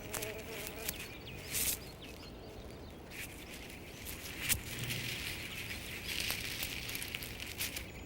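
Insect buzzing, likely a bee, hovers near a young coyote pup hunting in the Yellowstone wilds; a steady faint drone with brief louder passes, outdoors with no voices.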